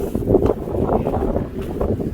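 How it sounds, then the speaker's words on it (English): Strong gusty wind buffets the microphone outdoors, a loud low rumbling roar that rises and falls in uneven gusts throughout. "Oh my goodness. It's windy."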